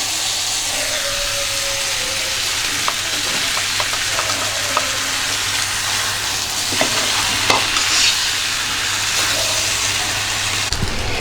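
Potatoes and fish head frying together in a spiced pan, a steady sizzle with intermittent scraping and clinking from stirring, fairly close and loud.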